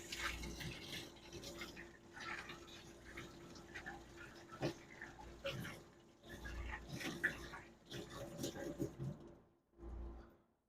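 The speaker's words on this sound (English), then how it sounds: "I'll just go ahead and wash the shell out." A cooked Maine lobster shell is rinsed under running water, with intermittent splashing and gushing from the tap. The sound is close, with irregular surges and a brief pause near the end.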